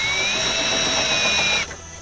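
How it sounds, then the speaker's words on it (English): Power drill running steadily at high speed while marking winch mounting holes on a trailer, a loud continuous whine that holds for about a second and a half, then cuts off abruptly. "Now I got 4 holes right here for the winch, but I'm still going to drill those."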